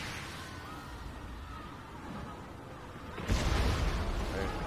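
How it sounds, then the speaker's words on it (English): A hell cannon fires on a Total War: Warhammer battlefield, heard as a sudden loud deep blast with a sustained rumbling roar after a stretch of steady battle noise. "It's like one hit of the hell cannon."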